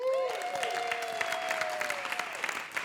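Audience applause at a live public radio event in downtown Los Angeles, steady clapping throughout with sustained tonal whistles or cheers over it at the start.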